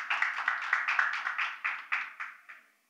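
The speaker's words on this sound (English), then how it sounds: "So please give yourselves a big round of applause." A small group of people in an audience clap briefly, the claps distinct and rhythmic at first, then thinning and fading out after about two and a half seconds.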